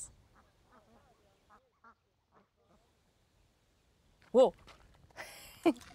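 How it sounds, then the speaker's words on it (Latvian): Two loud duck quacks stand out near the end, following a stretch of quiet, faint chirpy sounds. "Pīles."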